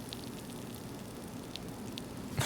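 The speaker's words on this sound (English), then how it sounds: "They're sizzling. Do you hear the crackle?" Stuffed peppers sizzle and crackle in hot oil, a steady faint hiss dotted with small pops and crackles throughout, heard close with no one talking.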